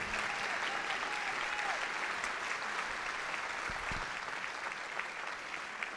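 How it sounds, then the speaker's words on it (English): An audience gives a sustained round of applause, a dense, even wash of many hands clapping at moderate distance that carries on without a break. "let's another round of applause for this outstanding"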